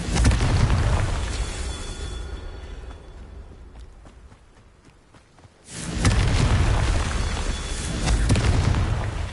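Booming spell blasts from the Confringo spell in Hogwarts Legacy, loud rumbling bursts at the start and again after a brief near-silent gap around the middle, each with a heavy low-end roar.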